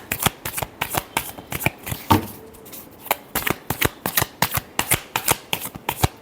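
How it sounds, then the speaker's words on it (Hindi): A deck of playing cards is riffled and shuffled in quick repeated bursts, each a crisp fluttering clatter that comes at a steady rhythm, close and clear, with a brief pause partway through and no talk. "Last shuffle."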